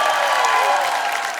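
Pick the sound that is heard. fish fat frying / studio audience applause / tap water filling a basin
studio audience applause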